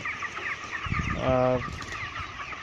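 Chickens cluck and murmur close by on a poultry farm, with one louder drawn-out call in the middle amid general flock chatter.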